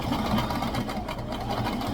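A sewing machine runs steadily up close, stitching a zigzag seam on a tutu skirt, its motor a continuous fast whirring hum with no talk.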